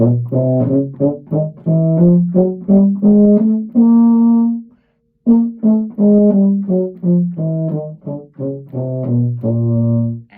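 A euphonium plays a steady run of repeated notes, two tongued then two slurred in turn, with a short pause midway before the pattern resumes.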